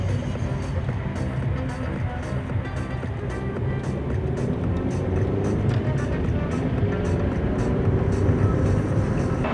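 Steady car-interior rumble during a taxi ride through the evening streets of Tashkent, Uzbekistan, booked through the Yandex Go app, with continuous low engine and road noise and faint tyre hiss the whole way.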